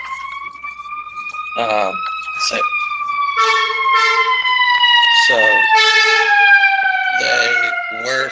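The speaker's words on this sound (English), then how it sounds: "Sorry, ambulance." An ambulance siren passes outside, its steady rising-and-falling wail holding for several seconds at moderate loudness while a man lectures over it indoors.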